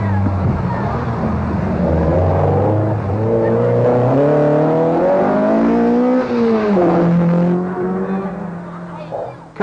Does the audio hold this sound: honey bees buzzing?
no